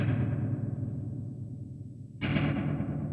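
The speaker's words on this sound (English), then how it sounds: "I'll give you a listen to the reverb by itself." Reverb tail from a Hotone Ampero Mini rings out alone, a guitar note decaying smoothly over two seconds before a fresh strum blooms into a wash of ambience, fairly loud and close.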